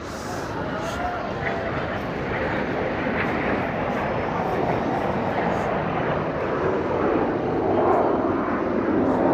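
Fighter jet engines of an aerobatic formation team roar back to life during the UAE National Day airshow at Expo 2020 Dubai, a loud, continuous rushing rumble that builds gradually in strength.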